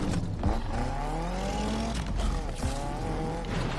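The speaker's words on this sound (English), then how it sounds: "I love hearing the whining of the supercharger." Engine of a car in the racing game NFS Unbound with a supercharger whine, steady rising harmonic tones over continuous loud engine roar, close and sustained throughout.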